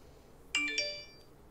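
A short phone notification chime plays two quick bright tones that ring out and fade, fairly quiet over a soft room hiss during a Starfield Constellation Edition unboxing.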